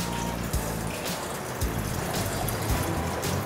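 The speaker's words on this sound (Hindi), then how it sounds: "इसमें आपने बर्फ़ डालनी है, थोड़ा सा पानी डाल दें" Water splashes and trickles over small broken pieces of ice in a vessel while making butter from yogurt, a steady pour with a few soft knocks.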